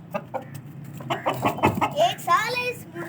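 A white Aseel rooster gives short clucks and a rising, strained call close by, while people talk over and around it.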